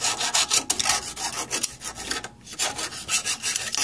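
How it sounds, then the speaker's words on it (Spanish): A piece being sanded while a small, low-cost mixing paddle is made by hand, heard as steady, close rasping strokes of abrasive on the surface in a quick repeating rhythm, with a short pause midway and no talking. "aquí va a llevar, bueno, una pequeña lijada"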